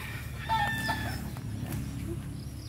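Fighting roosters and chickens on a provincial farm, with faint crowing and clucking calls scattered over a low background rumble, heard at a distance and fairly quiet.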